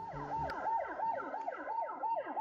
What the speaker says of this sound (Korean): 큰 사이렌 소리가 들렸다.